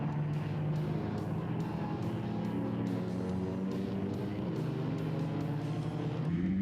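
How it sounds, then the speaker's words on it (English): Racing cars, including a Dart and a Mini, run on a race circuit with a continuous loud multi-engine drone and a rhythmic pulsing, as though heard from close by or on board. "Coming into G&H Transport, and Chad Tenduscata has the inside line next to Shane BAARTMAN onto the main straight"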